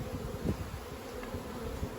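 Honey bees buzz steadily around a hive during requeening, a soft continuous hum with occasional louder passes of individual bees near the listener.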